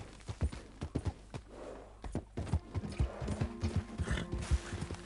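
Horse hooves clip-clop in a quick uneven rhythm in the video game Red Dead Redemption, close and clear, with a brief whinny-like tone and faint background sounds.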